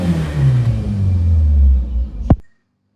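A car engine started after sitting unused for three months revs with a low, rising rumble close by, swells briefly, then cuts off abruptly into silence.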